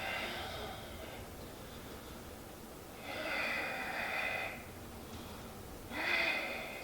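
Audible breaths during a core-strength yoga exercise, with three rounds of airy inhaling and exhaling swelling and fading at a slow, steady pace, close and soft, with no talking.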